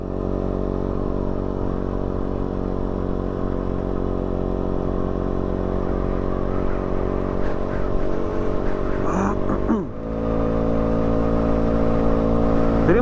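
A motorcycle rides steadily along Ruta 40 in Catamarca, its engine droning loud and constant with wind rush, then briefly easing and picking back up near the end.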